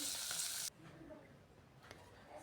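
Green beans fry on a pan at full gas heat, opening with a loud bright hiss that cuts off abruptly, then settling into a faint crackle with one short clatter.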